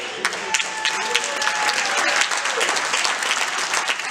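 Audience at a talk by a touring hip-hop artist clapping, steady crowded applause with a few sharper individual claps and some faint voices in the mix.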